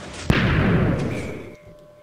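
Minecraft TNT sand cannon firing in the video game, a single sharp explosive blast followed by a roaring rumble that fades out over about a second, heard alone.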